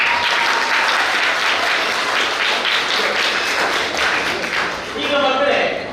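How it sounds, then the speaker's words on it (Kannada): A crowd of children claps loudly and continuously at a community book distribution and student felicitation event, a dense sustained round of applause filling the whole stretch. "ಸಂತೋಷ ಆದ್ರೆ ಜೋರ್ ಚಪ್ಪಾಳೆ ತಟ್ಟಿ"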